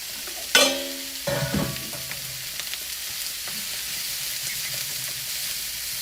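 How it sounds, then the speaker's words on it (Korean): Meat hits a hot pan and is stir-fried, a sharp clatter of utensil and cookware followed by a steady, crackling sizzle that fades to a softer hiss. "그래서 냄비를 쓰기 전에 여기다 볶아서"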